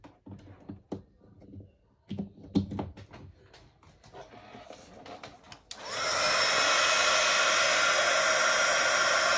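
A hair dryer drying paint switches on partway through and blows loudly and steadily to the end, after a stretch of quiet handling and rustling noises.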